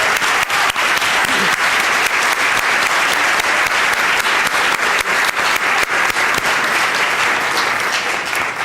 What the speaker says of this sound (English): Let's have a round of applause for these hardworking public servants.